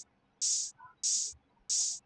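Spray bursts from the Phoenix Wright: Ace Attorney video game, three loud hissing blasts about half a second each, evenly spaced with short quiet gaps between them.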